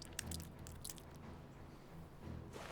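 Close, wet chewing of Trident orange gum, with irregular squishy bites and smacks that keep going for a few seconds and grow louder toward the end.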